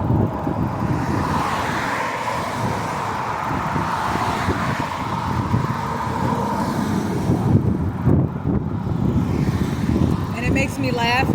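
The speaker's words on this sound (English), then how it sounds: "I'm driving a car." A car drives along a road, giving a continuous rumble of engine and tire noise at steady loudness, with a faint voice near the end.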